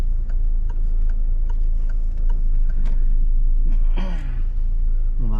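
During a driving lesson, a car pulls away with a steady low engine rumble and a regular ticking like an indicator.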